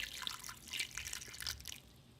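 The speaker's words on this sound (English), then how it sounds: "let me see about pouring in that water, about how much I do." Water poured into a pan while cooking low-carb chicken tacos, a soft splashing trickle with dripping, close and fairly quiet, fading out toward the end.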